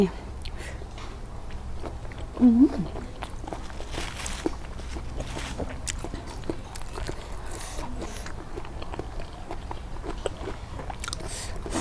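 Crunchy chewing of sour salad made with fattened beef hoof tendon, eaten alongside spicy papaya salad: close, repeated crisp bites and mastication, with a voice talking in the background.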